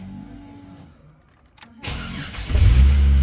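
A car's engine cranks and catches after a tail shaft repair, following a near-silent pause. It settles into a loud, steady, low idle with a slight rise in revs.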